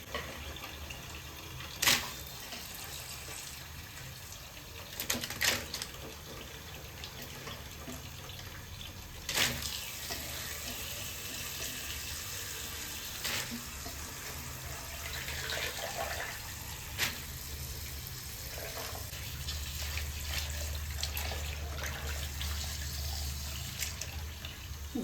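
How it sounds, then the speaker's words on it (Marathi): Thin potato chip slices rinse in clean water, with soft splashing and sloshing plus a few sharp handling clunks, fairly quiet and free of speech. "चिप्स छान असे 4-5 पाण्याने धुवून घ्यायचे आहेत"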